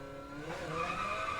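Tires squeal as the wheels lock under hard braking in the Assetto Corsa Rally sim, a sustained, rising screech over engine noise with no talking.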